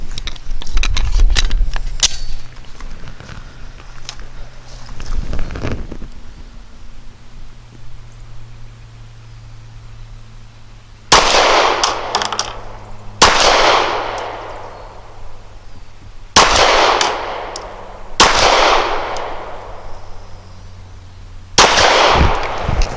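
Custom Glock 34 pistol fired on an outdoor range with Hexagon match grade 124 grain ammunition: a few sharp shots early, then a pause, then a series of loud, close, cracking gunshots spaced a couple of seconds apart, each with a ringing decay.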